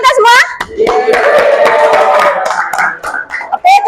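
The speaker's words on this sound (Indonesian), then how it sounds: "Tepuk tangan untuk kita semua." A class applauds, clapping hands quickly and unevenly over several seconds while children's voices and speech carry on over the claps.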